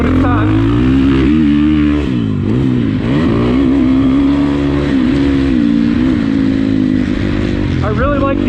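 A Husqvarna dirt bike rides along in third gear, its engine droning loudly and steadily with small shifts in pitch, while a voice talks over the top.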